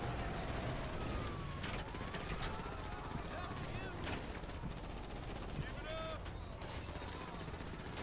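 Gunfire in the video game GTA 5 crackles through a dense, loud mix of game noise, with siren-like tones wailing and bursts of shots scattered across the whole stretch.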